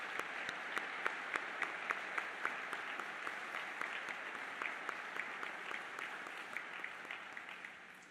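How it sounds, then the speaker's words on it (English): An audience at a D-Day 80th anniversary commemoration at the National World War II Museum applauds veterans. Sustained, fairly distant clapping with a few crisp nearby claps slowly tapers off. "let's give all of them who are watching a round of applause."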